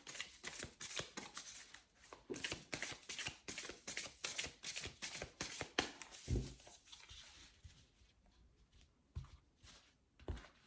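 Modern Love Tarot cards shuffled and handled in quick, crisp riffling bursts, steady at first and then thinning to sparser single snaps and slides, close and fairly quiet with no talking.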